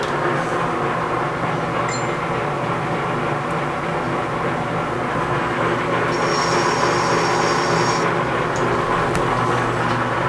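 A metal lathe takes a light spring cut with cutting fluid applied, giving a loud, steady machine drone with constant humming tones and a brief high whine partway through.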